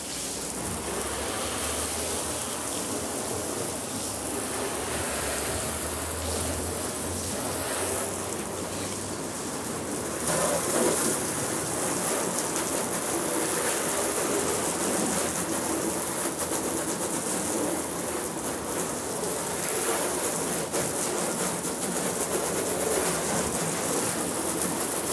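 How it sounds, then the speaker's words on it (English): Water rinsing off a surface being cleaned with an all-purpose cleaner, a continuous hissing spray and splatter held at a steady level throughout, with faint bird cooing in the background. "So this is rinsing off at number 5."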